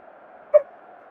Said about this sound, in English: I have to apologise for my dog barking